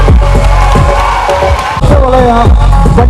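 A loud crowd cheers and applauds for a prize-winning team at a Bunt community conference stage event, a dense, steady roar of clapping and shouting with a few voices rising above it.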